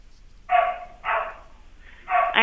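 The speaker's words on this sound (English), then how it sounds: "I have like 5 or 6 dogs in here right now." Several dogs bark inside a grooming salon, giving three separate loud, close bursts spaced about a second apart with brief gaps between them.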